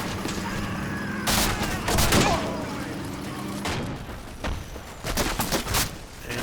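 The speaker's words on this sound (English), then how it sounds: "the half-track's chased off by a whole row of grenades" Grenades bursting in a Combat Mission World War II battle game, several dull thumps and crackling blasts spaced irregularly over a steady background rumble.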